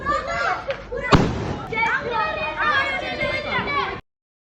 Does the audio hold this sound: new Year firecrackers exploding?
yes